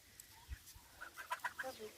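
Young goslings chatter in a farmyard, a run of quick soft high peeps close by, with a couple of low thumps at the start.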